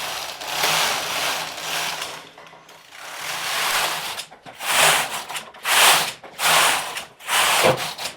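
A knitting machine carriage is pushed across the needle bed knitting rib rows, giving several loud rasping, clattering passes separated by brief pauses.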